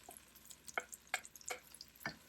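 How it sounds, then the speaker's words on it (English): Sliced mushrooms go into melted butter in a soup pan, giving a few soft, close clicks and light sizzling taps spaced irregularly, quiet and without talk. "Once your butter is melted, then you add your sliced mushrooms"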